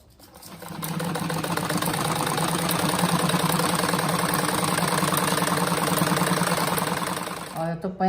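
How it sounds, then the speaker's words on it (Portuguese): A sewing machine stitches the ends of a patchwork rug in one long, loud, steady whirring run of about six seconds, close by, ending with a few clicks. "eu vou costurar aqui nas pontas"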